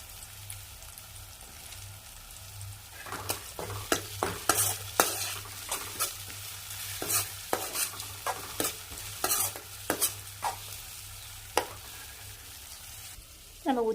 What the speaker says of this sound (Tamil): தக்காளி ஓரளவுக்கு நல்லா வதங்கிடுச்சு.